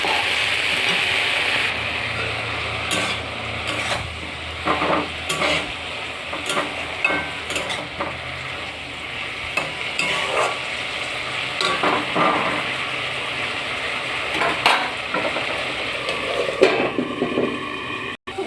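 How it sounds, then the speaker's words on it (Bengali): Khannan greens with salt and turmeric frying in a pan while being stirred, a steady sizzle broken by repeated scraping strokes of the spoon, close and continuous. "শাকটা এখন ভালো করে নেড়ে চেড়ে ভেজে নেবো কিছুক্ষণের জন্য"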